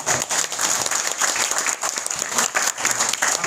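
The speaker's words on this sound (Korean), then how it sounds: "두 분께 다시 한번 큰 박수 부탁드리겠습니다." An audience at a political talk concert applauds in sustained, dense clapping that holds at an even level throughout, with faint crowd murmur beneath.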